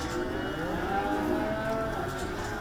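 Cattle moo continuously in a livestock setting amid busy demand, overlapping low calls with drawn-out tonal lowing, steady and moderately loud throughout with no talking.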